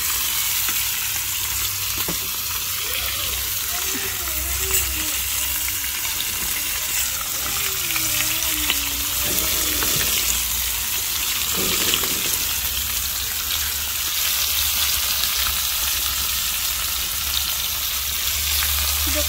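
Small fish fry in a pan with a loud, continuous sizzle while they are turned, the crackling steady and close throughout.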